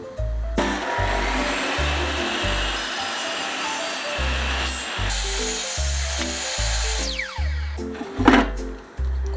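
A Makita 2703 table saw rips a long wooden board lengthwise, its motor whine broken by repeated loud low thumps and rasping cut noise, ending in a brief sharp surge.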